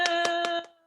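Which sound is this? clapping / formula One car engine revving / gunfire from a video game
clapping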